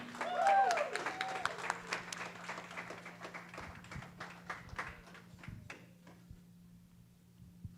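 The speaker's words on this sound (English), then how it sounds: "Let's get a quick round of applause for them." A modest round of applause rises briefly and then thins into scattered claps for honorees at a virtual May Day parade event, fading out over several seconds beneath a faint steady hum.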